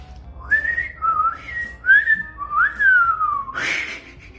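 A person attempts to whistle, producing a string of wavering, sliding whistled notes close to the microphone, with short breathy gaps between phrases and a final rising burst.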